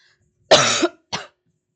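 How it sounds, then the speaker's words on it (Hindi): Two close coughs, a longer harsh one followed by a short second cough after a brief pause, with silence around them. "आई हैव अ फीलिंग कि मेरे को खांसी खराब होती जा रही है और ज्यादा"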